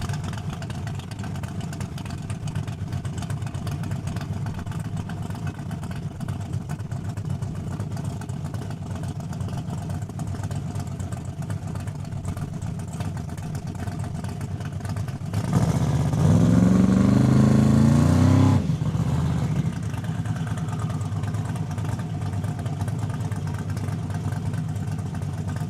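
Chevrolet Beretta drag race car at Saskatchewan International Raceway, a steady engine drone at the strip throughout with a louder, rougher burst of revving midway before settling back.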